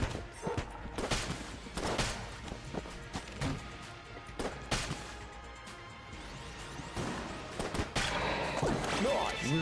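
Big guns firing in the Enter The Gungeon video game, a dense run of sharp bursts and crashes with a steady noisy bed beneath, loud and close throughout with a few bigger hits standing out.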